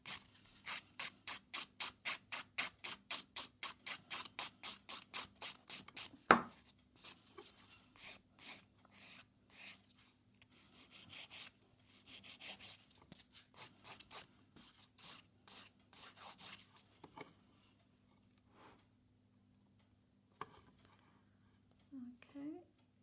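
A nail file rasps across the free edge of an acrylic nail in quick rhythmic strokes, a fast regular run at first, then slower, irregular passes before fading to quiet.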